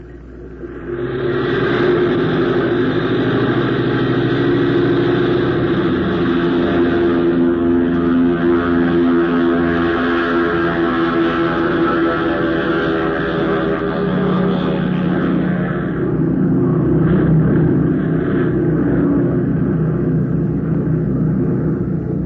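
Aircraft engine roaring steadily through a takeoff in a radio drama sound effect, a loud continuous drone that swells and holds with a slight drop in pitch near the end, with no voices.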